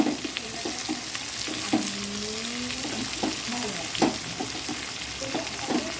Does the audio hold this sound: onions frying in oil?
yes